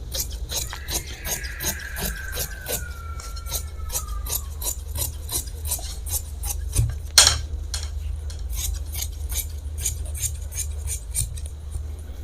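Scissors cut through fabric for women's police uniform trousers in a rhythmic run of crisp snips and rasping blade strokes, close up, with one sharper clack midway and no talk.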